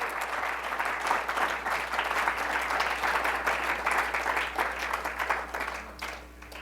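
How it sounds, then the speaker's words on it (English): An audience claps for Walter Cruttenden and his family and crew at a talk on ancient Maya mystery schools, with dense sustained applause that fades out at the end. "Why don't we all give a round of applause to Walter Cruttenden, his family, and his crew for this amazing platform."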